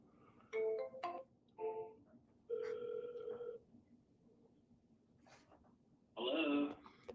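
An outgoing phone call rings back in a quiet room: several separated electronic ring tones in short bursts with pauses between, faint overall, plus a longer final burst.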